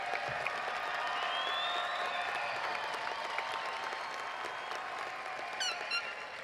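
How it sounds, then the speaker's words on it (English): Sustained applause from a large crowd at the New Caney High School graduation ceremony, steady and somewhat distant, with scattered cheers and voices mixed in. "Let's give them one last big round of applause."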